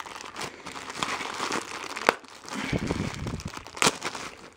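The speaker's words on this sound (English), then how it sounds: "So now there's even more packaging, just a little bit, some cellophane." Cellophane packaging crinkles and rustles up close as a WonderSwan Color handheld console is unboxed, with continuous crackling handling sounds and a few sharper tearing snaps.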